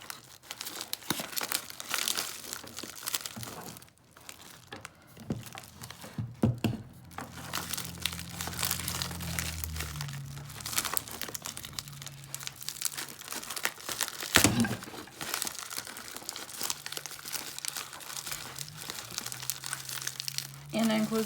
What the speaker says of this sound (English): This is really tough packaging for whatever reason.